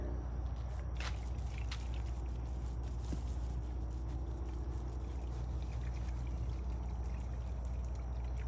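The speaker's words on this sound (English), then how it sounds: "I'm gonna go ahead and wet the stone down." Water poured steadily over a buried gravestone to wet it down, a continuous close splashing pour lasting the whole stretch with a few brighter splashes early on, no talk.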